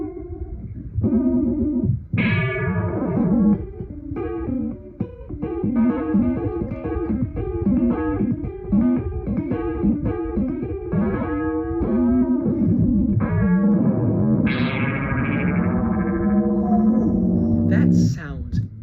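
An electric guitar runs through a Line 6 M13 effects board with a slow filter and synth-like setting, playing a continuous distorted, swirling line with echo and modulation for most of the clip.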